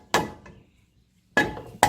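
Three sharp metallic hammer strikes on a 2010 Nissan Murano brake rotor, close and loud, with a long pause after the first and two quick hits near the end, each ringing briefly.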